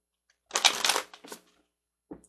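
An angel card is drawn from a deck during a tarot-style reading, heard as a brief close riffle and slide of cards lasting about a second, followed by a single soft tap.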